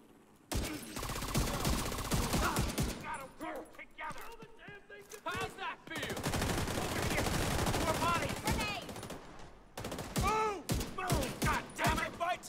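Rapid gunfire from a weapon in a looting video game, bursts of shots crackling in quick succession amid game sounds, with a person talking over parts of it.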